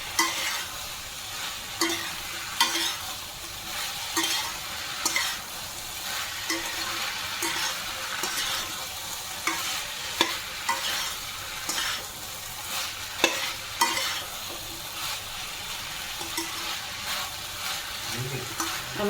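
Bottle gourd with moong dal and potato is stirred and fried in a pan, with a continuous close sizzle broken by repeated scraping strokes of a spatula at an uneven rhythm.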